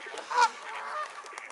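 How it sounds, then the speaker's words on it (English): Ducks flying in over a bird island give a loud, honking call that peaks once and sits over a steady rush of outdoor ambience. "Look at these ducks coming in."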